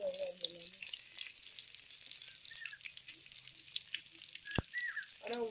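Cumin seeds and curry leaves fry in a pan for a goat liver gravy in a village kitchen: a close, steady sizzle with scraping stirs and a few faint chirps in the background.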